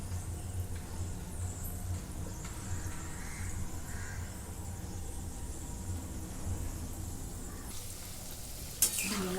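Wheat flour methi mathri frying in oil over a low flame, a soft continuous bubbling sizzle at low level, with a low background hum and a brief sharp clatter near the end.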